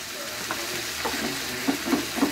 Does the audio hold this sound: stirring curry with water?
yes